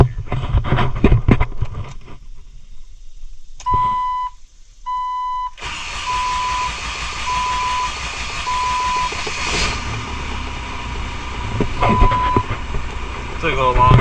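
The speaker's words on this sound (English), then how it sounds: "Alright, let's do a cold start here." A built VW ALH TDI diesel engine fitted in a Jeep Wrangler TJ cranks and fires on a cold start, then settles into a loud, steady clattering idle, with several electronic beeps and a voice talking early on.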